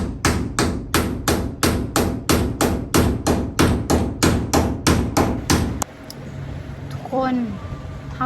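Steady, loud hammer blows land in a regular rhythm, about three per second, then stop; afterward a quieter stretch with a voice and faint background noise.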